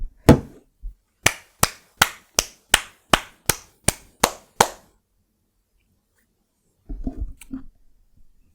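One person claps their hands about ten times in a sharp, evenly spaced rhythm, each clap crisp and close, followed by a silent pause and then a brief patch of low rustling.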